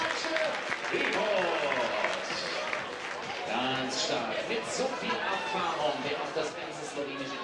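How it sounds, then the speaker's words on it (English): A crowd at a bouldering competition semifinal cheers and applauds in the background, a loose wash of clapping and shouts under a commentator talking over it for the whole stretch. "You can hear the crowd enjoyed it as well."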